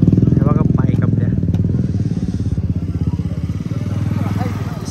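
A motorcycle idling close by during a bike rally stop at a fort near Chakan, a steady loud pulsing engine throb with a few faint background voices.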